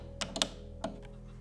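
A few sharp mechanical clicks from the shuttle knob of a Blackmagic Design editing keyboard, three quick ones then a pause and another, close and quiet against a faint hum.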